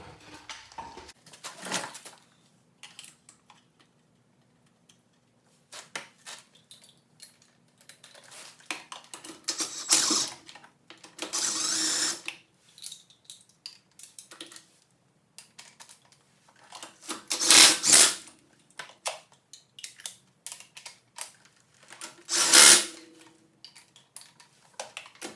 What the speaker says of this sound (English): So let's go ahead and put our lug nuts back on.